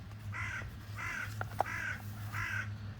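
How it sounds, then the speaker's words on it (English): A crow caws repeatedly in steady, evenly spaced calls, somewhat distant over a low, constant engine drone. "you can probably hear the crow in the background here"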